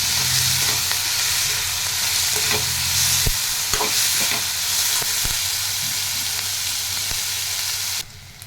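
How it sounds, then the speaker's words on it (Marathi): Chopped capsicum (bell pepper) being stirred into potatoes already sautéed in a pan, with a steady close sizzle and scattered spatula scrapes and clicks throughout, fading slightly at the very end. "आता आपण ह्याच्यामध्ये ढोबळी मिरची घालून घेऊ छान मिक्स करून घ्यायचं व्यवस्थित हलवून"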